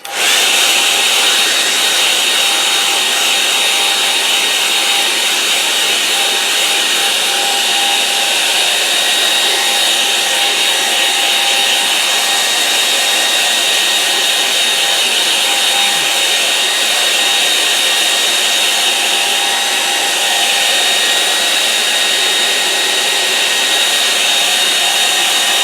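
A hair dryer blows steadily and loudly on a watercolour painting of a moorland scene, a continuous close whoosh with no pauses, alone without any talk.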